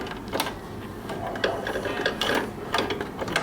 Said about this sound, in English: turning the hand wheel to catch the bottom thread